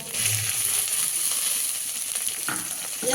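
Spices, Kashmiri red chili powder, green chilies and chopped tomato sizzle steadily in hot oil in a pan, a dense continuous crackle with a few stirring scrapes, close and alone without talk.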